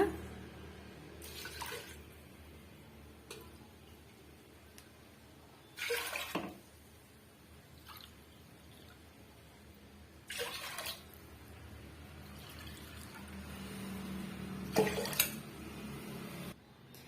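Four cups of water are poured into a pot for murukku dough in four separate short splashing bursts, spaced apart by quiet pauses.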